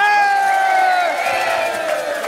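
A loud carnival crowd cheers and shouts together, voices rising and overlapping in a sustained roar of whoops close at hand.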